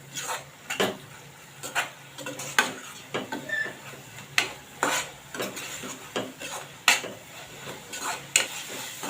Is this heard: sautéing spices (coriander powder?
yes